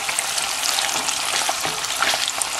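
Latik, coconut milk curds, fries in a pan with a steady, dense sizzle and crackle that runs unbroken and fairly loud throughout, with occasional faint stirring scrapes and no talk.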